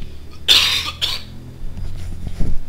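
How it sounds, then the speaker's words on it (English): A person clears their throat in two short, harsh bursts close to the microphone, followed by quieter rustling and faint background noise. "Sorry, I had to clear my throat a bit."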